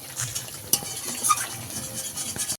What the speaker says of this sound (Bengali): ভালো করে কষিয়ে নিয়েছি, জলটাও শুকিয়ে এসেছে।